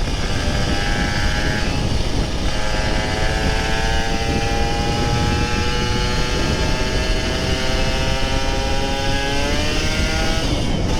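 A Kawasaki Ninja RR 150 motorcycle revs and accelerates hard on an empty Jakarta road, its two-stroke engine climbing through gears with a loud, steady, rising whine.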